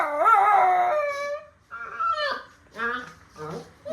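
A tied-up dog howls and whimpers close by: a long rising-then-falling howl followed by several shorter whining, whimpering cries in uneven bursts.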